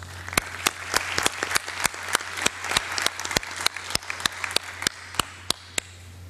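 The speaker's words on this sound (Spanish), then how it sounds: "Y pido un cordial aplauso, por favor, para José por su trabajo y participación en este proceso." A small audience at a public policy forum applauds a participant with sparse, sharp, individual claps at a steady rhythm over a low steady hum, and no voices are heard.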